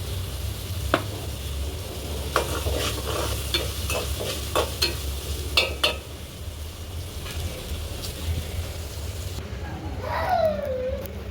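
Ginger garlic paste frying in hot oil for chicken dum biryani, a constant sizzle with repeated metal clinks and scrapes of a ladle stirring, and a brief squeak near the end.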